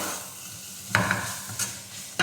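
Chilli powder and coriander powder fry in oil in a pan for a pumpkin leaf tempering. A spoon stirs and scrapes them in a few distinct strokes over a faint, steady sizzle.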